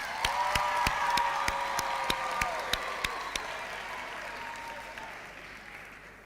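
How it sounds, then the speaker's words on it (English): An audience applauds graduates at a university graduation ceremony: a burst of sharp, crowded clapping that peaks early, then thins out and fades away, with a few sustained tones ringing underneath. "A huge round of applause for our graduates tonight."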